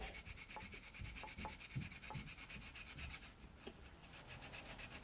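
Old green and white paint is scrubbed off an H. Disston & Sons backsaw, a quiet, steady back-and-forth rasping rub on the steel plate with a few light knocks, close up and alone.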